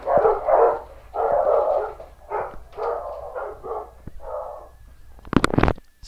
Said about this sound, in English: That was the dogs.